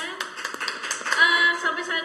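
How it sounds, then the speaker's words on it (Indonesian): An audience at a digital business seminar claps together, quick irregular hand claps sounding close and moderately loud, mixed with a faint tonal hum or background music. "Tepuk tangan dulu dong semuanya"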